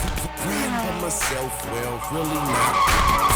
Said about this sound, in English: Car pop a wheelie.